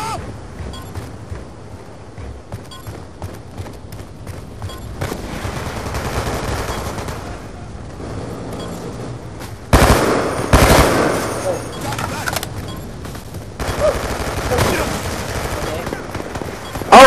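Sharp, repeated cracks of XPR-50 sniper rifle fire in the shooter game Black Ops 2, loud bursts rising out of mid-level battle noise, with a player talking at times.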